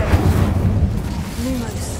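The Incendio fire spell cast in Hogwarts Legacy, a video game, gives a deep rumbling burst of flame that rolls on steadily, with a voice heard over it.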